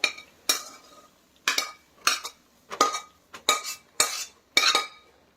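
A carrot burfi mixture is stirred in a large kadhai with a metal spoon, giving seven sharp scraping clinks in an irregular rhythm. Each stroke is close and clear, with quiet gaps between them.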